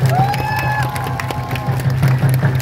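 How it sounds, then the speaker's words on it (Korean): A crowd at a residents' protest rally over apartment housing applauds after a chant leader finishes, a short, lively burst of clapping with a few whistle-like tones and a low hum underneath. "우아하게 구호제창해주신 우리 정원빈님께 박수 부탁드리겠습니다"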